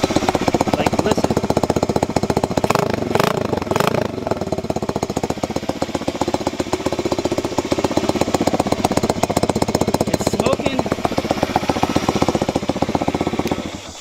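A Tao Tao DBX1 140cc dirt bike engine idles close by with a rapid, steady, rattly chug that sounds uneven, loud and continuous for the whole stretch, with no speech over it.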